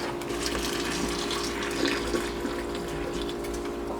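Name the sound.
draining water in sink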